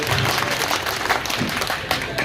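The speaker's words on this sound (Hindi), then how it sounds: "मुख्य सेक्टर प्रभारी भाई विनोद सहगल जी, मैं चाहूंगा का जोरदार तालियों से स्वागत सम्मान करें।" Crowd applause welcoming a sector in-charge at a Hindi-speaking party gathering, a dense, steady wash of clapping with voices mixed in.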